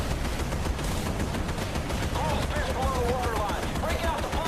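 Dense, loud, continuous gunfire aimed at cargo ships in the naval combat game Battlestations Midway, rapid overlapping shots forming an unbroken roar with no pauses.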